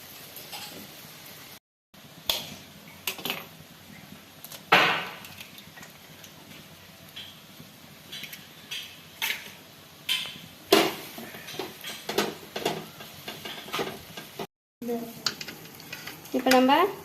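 Eggs fry in a pan for egg bhurji: a soft sizzle runs underneath while a spatula stirs and scrapes, with intermittent clinks of utensils against the pan.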